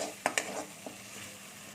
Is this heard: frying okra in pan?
yes